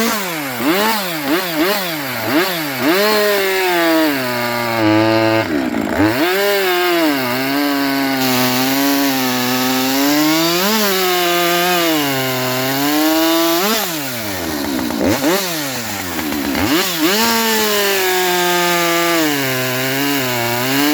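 Chainsaw running a brand-new Husqvarna semi-chisel chain that chatters badly, a loud close continuous engine note rising and falling with revs and two deeper dips, no voices.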